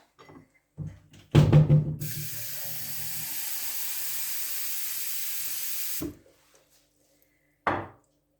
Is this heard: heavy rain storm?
no